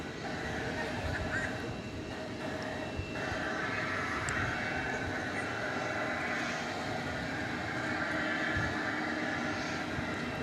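A DHL cargo jet operated by ABX Air taxis at Dallas/Fort Worth Airport at night, its steady engine roar and whine continuous and fairly close throughout, under a broad rumble of airport noise.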